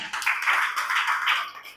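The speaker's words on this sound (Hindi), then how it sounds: "तो जोरदार तालियां हो जाए।" Audience applause at an indoor company health awareness program in India, a short, moderately loud burst of scattered clapping lasting under two seconds and fading out.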